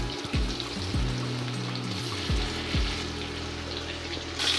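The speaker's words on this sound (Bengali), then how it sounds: "আমি এখন ঘানে ভাঙা সরিষার তেলটা দিয়ে দেব। মাছগুলো ভেজে নেব।" Roe-filled hilsa fish fry in cold-pressed mustard oil in a pan, a continuous crackling sizzle with a few low tonal hums and knocks underneath, close by and without speech.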